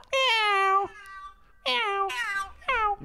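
A cat meows over a phone line, three drawn-out, clear meows with short pauses between them, close and fairly loud with a slightly thin telephone quality.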